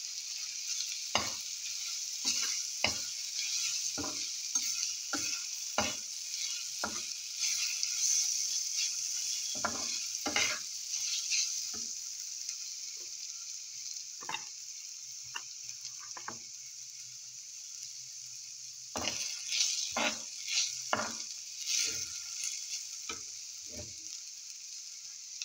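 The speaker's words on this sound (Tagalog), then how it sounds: "I-half fry natin itong grated wash na potatoes." Grated, washed potatoes half-frying in hot oil in a pan, a steady bright sizzle running throughout, punctuated by sharp scraping and clicking utensil strokes, with a short quieter lull in the middle.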